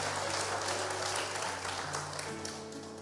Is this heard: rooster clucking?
no